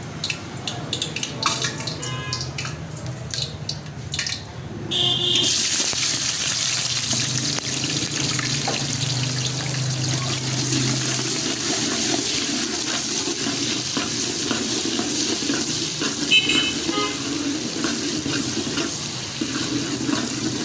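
Finely chopped onions hit hot oil with a sudden loud hiss that settles into a dense, continuous sizzle, close up and steady, for a restaurant-style fried daal mash.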